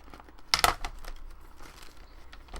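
Paper being cut while making a handmade friendship journal, a short crisp crinkling snip burst near the start, then quiet rustling handling sounds at close range.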